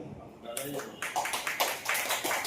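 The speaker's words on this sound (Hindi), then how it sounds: "चलो एक बार अपने लिए ताली दो" An audience at a spiritual gathering claps together, with rapid, uneven clapping starting after a brief voice and continuing loudly to the end.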